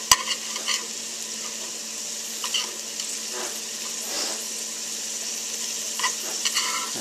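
Salt herring frying in butter in a pan for camp food in Newfoundland gives a steady, close sizzle with a few light scraping clicks over it, and no one speaks.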